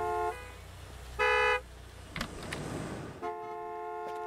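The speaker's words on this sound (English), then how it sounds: "Oh my god, everyone's honking." Car horns honk repeatedly in Gas Station Simulator, two long harmonic blasts with a noisy rustle between them, over a low steady game background hum.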